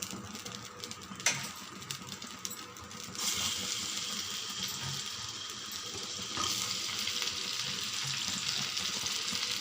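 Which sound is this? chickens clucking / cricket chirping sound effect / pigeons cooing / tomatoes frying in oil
tomatoes frying in oil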